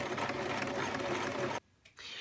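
A sewing machine top-stitches along the edge of a fabric napkin, running in a loud continuous whir that stops abruptly, pauses briefly with a short blip, then resumes.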